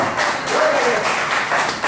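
A church congregation claps together during a worship service, a steady, close wash of many hands applauding without a break.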